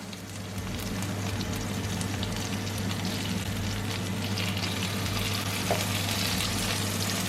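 Tandoori fish pieces fry in a pan, giving a continuous, even sizzle and crackle close up, with a low steady hum underneath and no talking.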